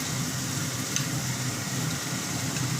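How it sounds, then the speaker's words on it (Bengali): Onion and ginger frying in a pan for a stingray fish curry, a steady close sizzle with a faint low hum underneath and no voices. "পেঁয়াজ আদাটা অনেকটা আমার ভাজা ভাজা হয়ে গেছে"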